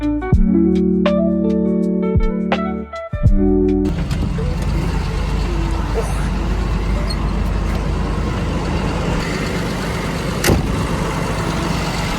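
A MAN TGM 18.250 truck sets off: a few tonal beeps and clunks open, then the diesel engine swells into a loud, steady rumble of road and drivetrain noise as it drives away.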